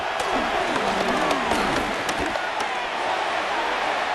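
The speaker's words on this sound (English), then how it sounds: "This crowd turning up the decibel level" Stadium crowd noise in the Madden NFL video game during a 49ers versus Rams match, a dense continuous roar of cheering that stays loud throughout, with a commentator's voice faintly mixed in.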